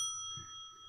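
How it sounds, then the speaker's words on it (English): Recorded bell plays a short electronic ring with steady sustained tones, followed by a brief louder burst at the end. "is that a real bell or is that a recording of a bell?"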